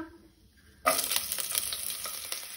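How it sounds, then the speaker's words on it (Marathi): Two chopped green chillies hit hot oil with cumin for sabudana khichadi. A sharp burst of sizzling starts suddenly and keeps crackling steadily and closely to the end. "1 मिनिट भर मिरसांगो आमी मातश्यो तेलार तळसून घेवपाक जाय, परतून घेवपाक जाय"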